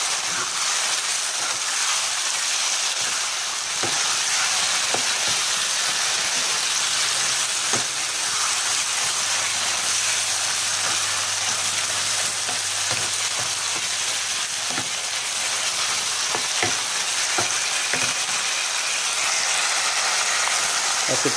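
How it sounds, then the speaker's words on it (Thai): Spaghetti stir-fried in a pan with chili and kaffir lime leaves sizzles continuously and loudly, with repeated scraping and clicking from the spatula as it is tossed. "แล้วก็ผัดต่อนะครับผัดให้ผัดสุ"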